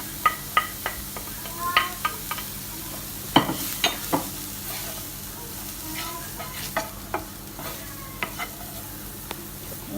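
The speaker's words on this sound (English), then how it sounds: "And give that a little stir." Chili powder and turmeric stirred into a frying pan, with scattered scraping taps of a utensil over a soft, steady sizzle, close and fairly quiet throughout.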